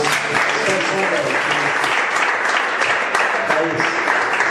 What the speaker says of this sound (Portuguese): E que as palmas louve a Deus.